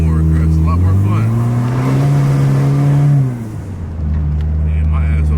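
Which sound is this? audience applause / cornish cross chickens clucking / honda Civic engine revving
honda Civic engine revving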